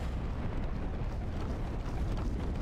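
An explosion in the game Dark Souls 2 makes a steady, loud, dense roar that rumbles without a break for the whole stretch, heavy in the low end.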